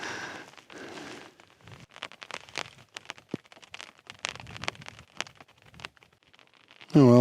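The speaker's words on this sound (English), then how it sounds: "It's just started raining." Light rain patters in scattered drops on the fabric of a trekking pole tent at dawn, crisp close taps coming and going, with a louder rustle at the very end.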